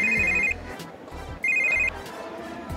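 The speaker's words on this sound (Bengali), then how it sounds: "ফোন বাজে।" A phone ringtone rings twice in short repeating bursts with a pause between, loud and close, with no talking over it.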